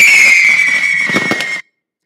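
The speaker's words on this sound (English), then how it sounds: "no wedding would be complete in rural China without lots of fireworks." Fireworks set off at a rural Chinese wedding: a loud whistling shriek held steady, then a short burst of crackling bangs near the end before it cuts off abruptly, close and loud.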